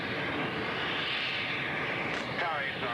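Lockheed F-117 Nighthawk stealth jet roars steadily overhead at an airbase, a loud continuous rumble with a rising whine near the end, while someone talks over it.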